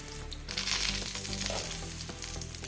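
Stuffed capsicums sizzle and fry steadily in a pan, a close, continuous crackle with a few brief clinks and stirs partway through.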